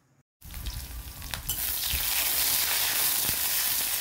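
Onions, drumstick pieces and potatoes fry in hot oil, starting suddenly after a moment of quiet and then holding a loud, steady, close sizzle with a few stirring knocks.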